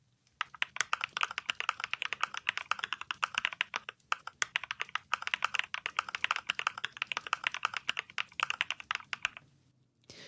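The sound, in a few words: typing on a keyboard with Cream switches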